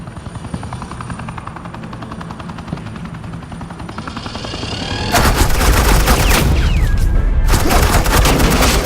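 Suppressing fire in the game Batman: The Enemy Within, a dense burst of rapid automatic gunfire that breaks in loudly over a low helicopter-like drone, sustained and close.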